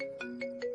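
A phone ringtone chiming in short repeating melodic pulses, clear but fairly quiet, with no speech.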